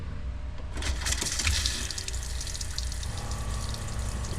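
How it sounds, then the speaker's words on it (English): A boat's freshwater pump runs as water flushes through the onboard plumbing, a steady rushing gush that surges in after a brief quiet start and keeps flowing at moderate, close level. "we turned the water pump on, it's working. Just need to flush some water through the system."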